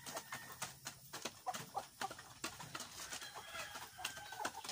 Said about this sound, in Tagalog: ito yung mga Rhode Island natin.